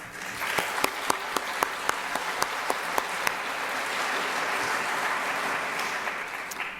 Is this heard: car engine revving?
no